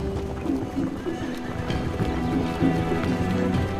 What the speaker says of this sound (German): Heckrinder und Konix, die Nachfahren der letzten europäischen Wildpferde.